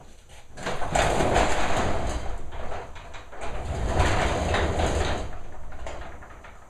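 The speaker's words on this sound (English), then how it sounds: "We open the garage door too." A garage door rumbles and rattles as it rolls open, a steady mechanical grind with two long swells, fairly close and loud.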